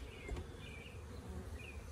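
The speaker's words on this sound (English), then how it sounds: "I'm just shaking most of the bees off so they don't fall on the ground." Honeybees from a 3 lb package hum steadily as they are shaken off a hive frame during a first inspection, a close, continuous buzz with no talking.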